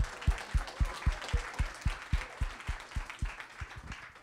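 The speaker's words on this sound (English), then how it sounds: "Let's have a round of applause for these guys" Audience applause for the startup pitching teams at a Harvard i-lab competition: a steady run of sharp, evenly spaced claps, fairly close and moderately loud, with no talk over it.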